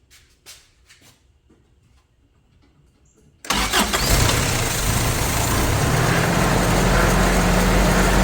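After a few quiet clicks and small noises, the engine of a 1984 Toyota pickup cranks and fires up on the key, then settles into a loud, steady, close idle.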